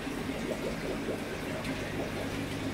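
Water pumped up from a garden pond pours into grow beds on a small city farm in Truro, Cornwall, making a steady, continuous rushing trickle close by with no voices.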